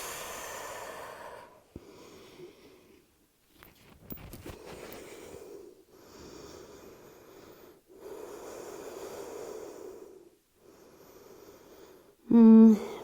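Slow, deep yoga breaths taken lying prone in a vinyasa class, several long airy inhales and exhales in an even rhythm separated by brief pauses, close and soft, ending with a short louder tone.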